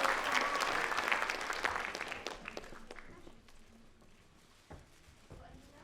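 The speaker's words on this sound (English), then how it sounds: "Let's give those authors an amazing applause." Audience at a children's book award ceremony applauding the authors, loud dense clapping that thins and fades toward the end.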